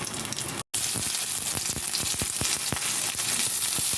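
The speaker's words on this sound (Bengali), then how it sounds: "আমাদের ফোড়নটা যখন ভাজা হয়ে যাবে, আমি কেটে রাখা পেঁয়াজ দিয়ে দেবো।" Chopped onions fry in hot oil seasoned with Bengali five-spice for a Malabar spinach dish, giving a loud, steady, crackling sizzle close up, with one brief dropout near the start.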